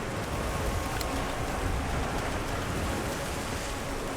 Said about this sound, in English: The rain's really coming down.